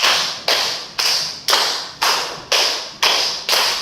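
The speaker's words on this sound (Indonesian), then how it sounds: "tepuk 4 2 kali" Eight crisp group claps in perfect unison ring out from a class during a teaching practice session, two sets of four at an even half-second beat with no talking.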